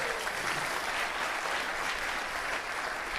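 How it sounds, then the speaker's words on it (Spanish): Continuous applause from a church congregation fills the space, dense and even throughout with no talking over it. "¿Cuántos le regalan a Él un aplauso en esta hora?"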